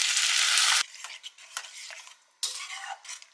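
Boiled dal being stirred into fried spices with dry chilli and coriander powder in a pan: a loud, steady sizzling scrape at first, then shorter, scattered stirring and sizzling bursts that stop and restart.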